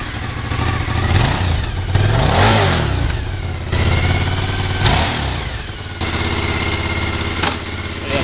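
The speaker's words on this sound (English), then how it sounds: "start the bike and go through the gears" A 2003 Suzuki SV1000 motorcycle engine runs loud and close, rising and falling through several strong revs over a steady rumbling idle.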